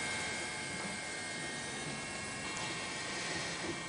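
Steady broadband rotor and engine roar from a news helicopter flying over tsunami-hit Fukushima Prefecture, continuous and fairly loud throughout with no talking.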